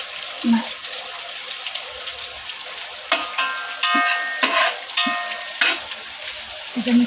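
Green chillies and curry leaves frying in oil in a pan for chivda, a close sizzle with intermittent spatula stirring and metallic scrapes, faint background voices between strokes.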